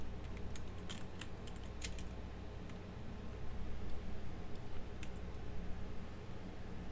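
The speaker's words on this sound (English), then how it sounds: "Okay, I still gotta keep typing." Rapid typing on a computer keyboard, steady clicking keystrokes in irregular bursts at close range over a quiet background hiss, with no talking.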